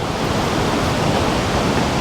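Steady roar of a waterfall seen from a distance near a historic Negro League baseball stadium, a constant broadband wash of falling water with no voices.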